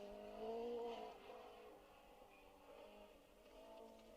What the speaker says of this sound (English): Rear wheel drive Fiesta. Hear that go up the hill.